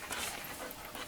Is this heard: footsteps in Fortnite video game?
no